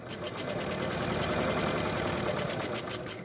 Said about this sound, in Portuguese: eu vou costurar bem aqui na, na, na bordinha do tecido